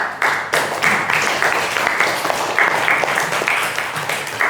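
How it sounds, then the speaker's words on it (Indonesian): A classroom group claps in sustained applause for a student group's presentation, dense and fairly close, with no pauses. "tepuk tangan untuk kelompok 4"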